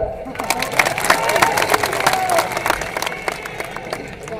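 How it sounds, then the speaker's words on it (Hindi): A crowd at a public gathering in Kawardha, Chhattisgarh, claps steadily and cheers, a loud, continuous wash of hand-clapping with voices mixed in that carries on for several seconds. "अब तो ताली बजा।"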